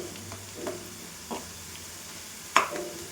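Onion, curry leaves and tempering seeds fry in a pan for garlic chili powder, a faint, steady sizzle broken by a few soft stirring knocks and one sharp clink near the end.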